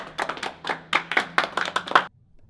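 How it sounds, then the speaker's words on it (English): A few people clap in a quick irregular burst, about a dozen sharp close claps over two seconds before stopping abruptly. "I clap for Ryan because he's an honest man."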